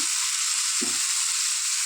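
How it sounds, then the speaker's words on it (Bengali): Cumin seeds frying in a pan give a steady, bright hiss that holds evenly from start to finish, with no talking over it. "আর ওইদিকে আমি জিরেটা ভেজে নেব"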